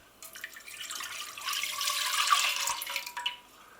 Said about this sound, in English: Pour in the remainder of the milk.